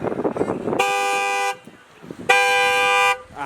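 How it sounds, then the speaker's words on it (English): Two long, loud car horn blasts, each lasting under a second, separated by a short pause, with a brief voice before the first. "Press our horn so they can hear the difference."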